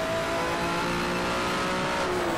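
Engine of a race car in the video game GT Legends, an F3 Alpine car on Road America, holding a steady high drone for the whole stretch with no talk over it.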